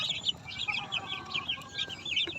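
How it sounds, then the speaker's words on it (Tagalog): Young chicks peep in quick, high chirping bursts, fairly faint and continuous over a soft background murmur of the coop. "Ayan po yung mga sisiyo natin na malatuba."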